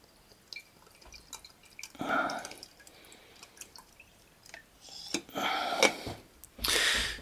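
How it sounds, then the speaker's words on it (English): Water trickles and drips through the mesh filter of a coffee plunger in a kitchen experiment, soft intermittent drops and splashes rising to a few louder gushing bursts, close and alone without speech. "you'll get a bit of water going down through"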